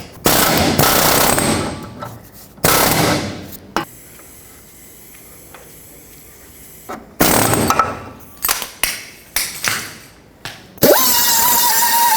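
A pneumatic air chisel hammers at a leaf spring shackle on a 2003-2021 Chevrolet Express van, firing loud, rapid rattling bursts close up. Long runs are broken by a quiet gap, then several short stuttering blasts and a final sustained run.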